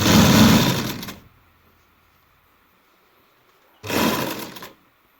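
A sewing machine stitches a straight seam on a baby boy's kurta sleeve in two loud, close bursts, the first about a second long and the second shorter after a quiet pause.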